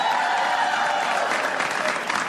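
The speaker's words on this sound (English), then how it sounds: "So give her a big round of applause" Loud crowd applause on a primary election night, a thick burst of clapping and cheering that stays strong for a couple of seconds, with a faint voice underneath.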